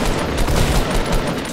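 A loud, dense burst of rapid gunfire in a Fortnite fight, close and continuous for a second and a half.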